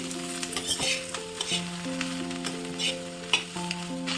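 Onions sizzle in hot oil while being stirred for onion chutney, with scraping and occasional clinks of a utensil against the pan.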